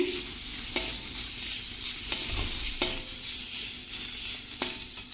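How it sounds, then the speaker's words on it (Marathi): Sesame seeds sizzle with dill greens in a hot pan, a steady close frying hiss broken by a few sharp clicks as a spoon stirs and scrapes the pan. "त्यांनी तीळ घालते तेही छान परतून घ्यायचे"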